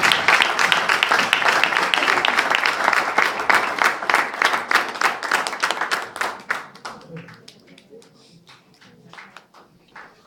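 Church congregation applauding strongly during a worship service, dense clapping filling the first seven seconds and then thinning into scattered, fading claps.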